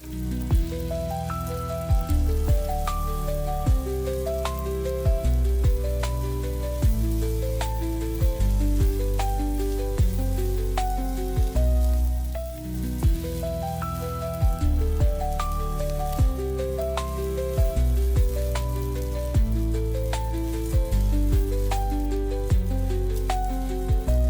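Gobindobhog rice fries in a pan for pulao with ginger paste and salt, a steady sizzle running throughout beneath prominent melodic background music.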